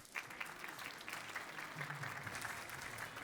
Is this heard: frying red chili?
no